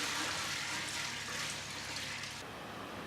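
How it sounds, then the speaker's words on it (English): Rice is washed in water at a small Japanese sake brewery, producing a steady rushing, splashing wash of water that eases slightly toward the end. "This process is called washing rice."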